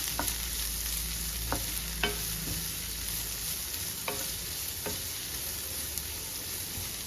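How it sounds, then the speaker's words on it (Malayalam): Ginger, garlic, green chilies and onion sautéing in a pan for a Kerala-style cauliflower roast, a steady soft sizzle throughout with a few light stirring scrapes and taps. "ഇഞ്ചി ചേർത്തു വെളുത്തുള്ളി ചേർത്തു പച്ചമുളക് ചേർത്തു സവോള ചേർത്തു ഇത്രയും കൂടെ നന്നായിട്ടൊന്ന് വഴണ്ട് വരട്ടെ"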